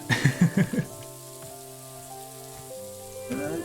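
Rain falling in the video game Boundless, a few quick patters at the start giving way to a soft wash beneath sustained, ringing musical tones.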